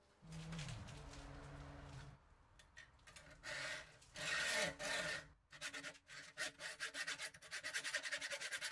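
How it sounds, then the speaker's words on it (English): A brush scrubs leftover sand off a freshly made cast iron casting, close bursts of rough bristly rasping broken by brief pauses, ending in a run of quick short strokes, with no speech. "Before cutting the sprue off, I give it a little brush off to remove any remaining sand."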